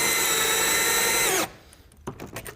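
A power drill drives screws into a shutter frame with a loud, steady whir that runs for over a second, then stops, followed by light knocks and handling sounds.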